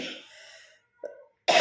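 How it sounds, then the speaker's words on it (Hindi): Two short, close coughs from a woman in a quiet room, a light one followed by a sharper, louder burst after a brief pause. "खांसी आ जाती है"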